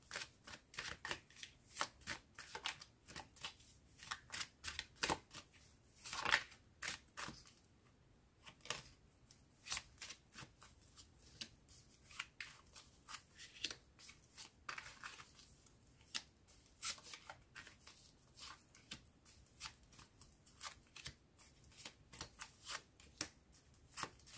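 Tarot cards being shuffled and drawn, a long run of quick crisp riffling and flicking bursts, close and fairly quiet, with no talking.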